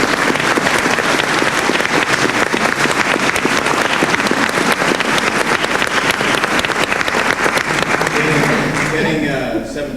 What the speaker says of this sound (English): can we have a round of applause for our panelists here?